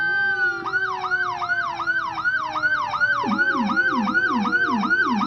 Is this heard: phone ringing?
no